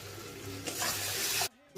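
Onion, tomato and chilli-powder masala sizzles loudly in a kadai as water is poured in, a hissing rush that swells and then cuts off abruptly near the end.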